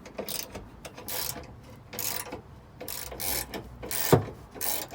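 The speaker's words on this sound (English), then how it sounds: "we just do this up bit by bit on each bolt just so that the bracket settles properly" Ratchet wrench tightening bolts on a car's rear suspension bracket, close and clear, with several separate bursts of rapid clicking, each followed by a brief pause, plus a sharp metallic knock near the end.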